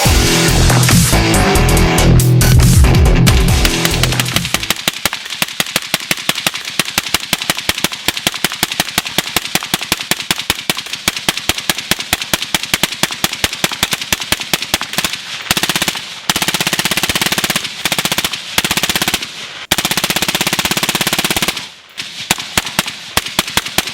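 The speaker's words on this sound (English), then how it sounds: "I'm going to put 500 rounds through the suppressor as fast as possible." An ADM rifle fitted with a Trash Panda suppressor fires rapidly during a 500-round burn-down, long strings of quick muffled shots that come in fast bursts with short pauses, starting under a loud rumbling noise and later heard alone.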